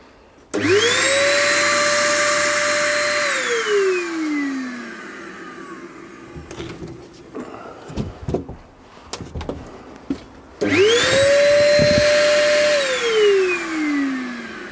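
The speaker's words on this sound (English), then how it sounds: "it plugs into the hoover or the vacuum cleaner, whatever you want to call it" A vacuum cleaner extracting from a sand blast cabinet whines up to a loud steady roar, cuts off with a falling pitch, then after some clattering and knocks starts again and runs loudly.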